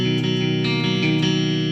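A sustained, heavily distorted electric guitar tone rings out, thick and buzzing with rich harmonics, loud and steady throughout, playing a song part.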